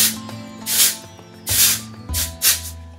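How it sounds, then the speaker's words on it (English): Texture spray aimed up into lifted hair lets out four short, close hissing bursts in an uneven rhythm, each lasting under half a second, with soft steady music tones underneath. "I always like to lift up and spray up into it"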